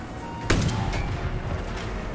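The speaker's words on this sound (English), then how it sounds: "He's trying to snipe the guy." A single sharp sniper rifle shot in Far Cry 6, one loud crack at close range followed by a brief fading echo over quiet background ambience.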